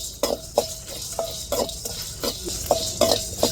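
Vegetables being dry-roasted without oil in a pan over heat, a spatula scraping and stirring in repeated strokes against the metal, with a faint sizzle underneath and no talk.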